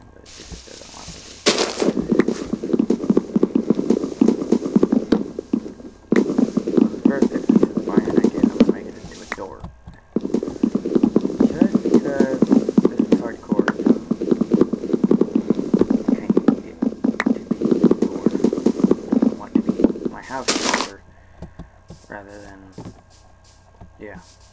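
Video-game horse hooves clip-clop in rapid repeated bursts while someone talks over them, the bursts breaking off briefly around the middle and again near the end.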